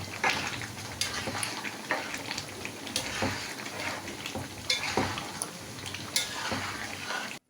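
Chicken pieces and fried potatoes are stirred together in a pan for chicken kosha, with a steady low sizzle broken by scraping spoon strokes and light clanks against the metal. No one speaks.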